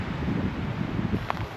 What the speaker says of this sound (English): this wind is so insane, it's gonna tear up all of my audio